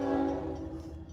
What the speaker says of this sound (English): Sorry, train's going by.